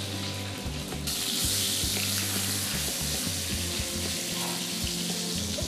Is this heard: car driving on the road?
no